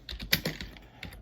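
Quick, close keystrokes on a computer keyboard: a handful of light clicks in about a second, with no voices.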